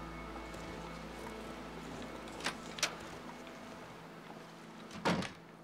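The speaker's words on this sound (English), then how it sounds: "Close the door." In the survival game The Long Dark, a door creaks and thuds shut. A few short knocks come first over a low ambient hum, then one louder closing bump near the end.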